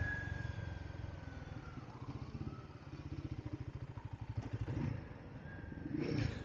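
Guerrilla 450 roadster motorcycle riding through city streets, its engine throbbing in a steady, close low pulse with slight rises in revs and some traffic clatter around it.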